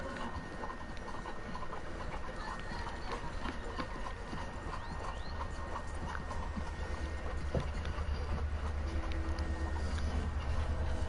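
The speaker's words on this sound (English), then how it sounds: "Call my horse in case he tries to escape." Horse hooves clip-clop steadily under a dense wash of game ambience and music in Red Dead Redemption 2, the hoofbeats continuous and mid-distance rather than prominent.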